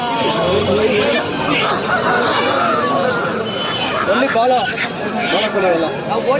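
Aseel chickens and roosters at the Kundarapalli market in Krishnagiri district, clucking and calling steadily amid dense crowd chatter and nearby voices.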